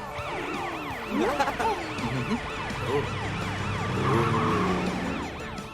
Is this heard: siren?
yes